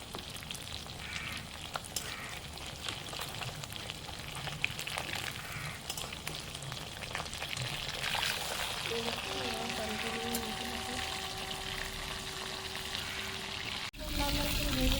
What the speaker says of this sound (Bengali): এবারে মাছটা ছেড়ে দেবো। তেল গরম হয়ে গেছে।